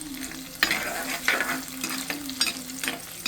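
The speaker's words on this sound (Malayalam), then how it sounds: "ഞാൻ ഇതിനകത്തേക്ക് ക്രോസ് ചെയ്ത് മുറിച്ച് വെച്ച പച്ചമുളക് ഇടുകയാണ്" Cross-cut green chillies frying in hot oil with garlic in a pan give a constant close sizzle, broken by several sharp scraping stirs at irregular intervals over a faint low hum.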